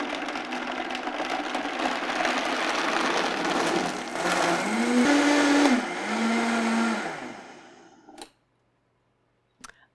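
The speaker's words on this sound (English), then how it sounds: "you see I blended it on very high speed for quite a while because we want those cashews blended in absolutely creamy into this milk" A high-speed blender whirs loudly while blending cashews into milk for butternut squash soup, its pitch rising and falling as the load shifts, then winding down and stopping near the end, followed by a couple of faint clicks.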